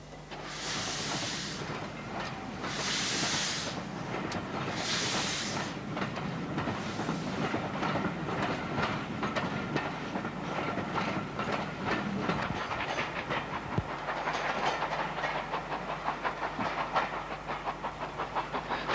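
Jones Goods 460 class steam locomotive number 103 runs between Inverness and Elgin in Scotland, with steady rolling rail noise and a few soft whistle-like bursts near the start, heard at moderate distance.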